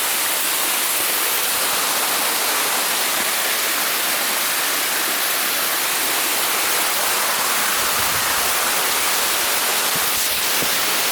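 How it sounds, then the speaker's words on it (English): Waterfall on a hiking trail in Akaroa, New Zealand: a constant broadband rush of falling water, loud and steady throughout with no voices. "we're into this waterfall"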